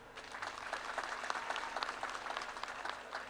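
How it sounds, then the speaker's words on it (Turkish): Audience applause at a community picnic of people from Güzelyurt: steady, dense clapping from a gathered crowd, holding even for about three seconds with no voices on top. "Hepsine de ayrı bir alkış istiyorum."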